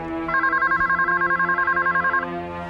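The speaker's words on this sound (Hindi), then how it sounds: "जी सुमन, तुम्हारे आर्किटेक्ट का फोन है।" A telephone rings in a domestic TV drama scene: one warbling electronic ring of rapid pulses lasting about two seconds, loud and close, with no talk over it.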